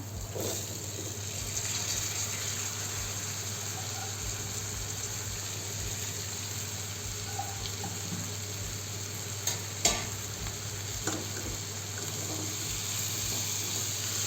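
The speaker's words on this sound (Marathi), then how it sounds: "आणि असं छान फिरवून घ्यायचं" Boiled cluster beans fry in a pan for a Marathi gavar bhaji, a steady low sizzle broken by repeated spoon scrapes and stirs, with a slightly louder clatter near the end and no talking.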